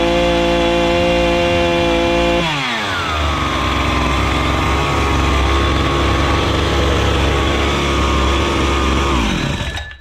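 A Husqvarna 61 chainsaw, freshly given a carburetor adjustment, runs loud and close at a high steady rev, then drops sharply to a lower, rougher running speed that holds before cutting off near the end.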